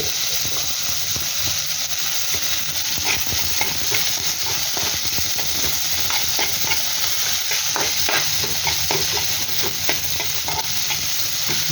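Garlic fries loudly in oil for adobong sitaw, a dense continuous sizzle with frequent scraping and clattering stirs of a spatula against the pan, close and busy throughout, no voices.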